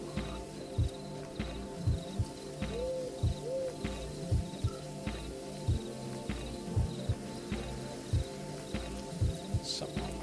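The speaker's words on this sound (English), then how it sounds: "I like the owl sound." A soft owl hoot rises twice over a steady looping ambient bed of rain-like patter, crickets and regular low thumps, a faint nocturnal game soundscape.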